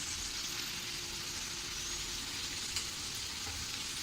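Semolina-coated potato slices pan-frying to a crisp, with a steady, even sizzle holding at a moderate level from start to finish, no voices present.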